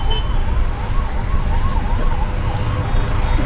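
An ambulance siren wails in a steady, rising and falling pattern while the vehicle sits stuck in a heavy traffic jam during a curfew period. The siren is layered over a loud, constant rumble of engines and traffic noise.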